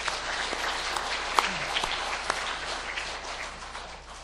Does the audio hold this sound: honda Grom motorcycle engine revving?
no